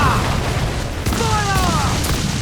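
A ship's cannon booms during a naval battle in Assassin's Creed IV Black Flag, one broadband blast over a constant roar of wind and sea, with a voice calling out nearby.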